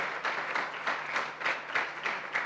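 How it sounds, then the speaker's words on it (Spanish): Church congregation claps together in a steady rhythmic beat during an evangelical sermon, moderately distant and fairly soft, with no speech over it. "¿Cuántos le dan un aplauso al Señor y a la sabiduría?"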